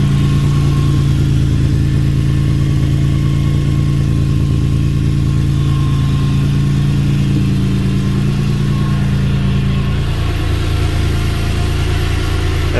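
A Subaru EZ30D flat-six swapped into a Vanagon with a five-speed manual idles loudly and close through its exhaust, a smooth, steady low drone that dips slightly near the end.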